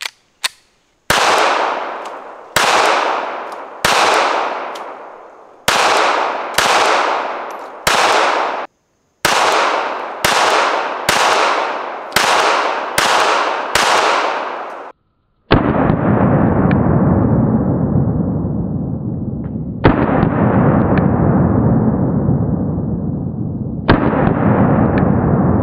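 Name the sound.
gunshots from Springfield Armory Hellcat .380 pistol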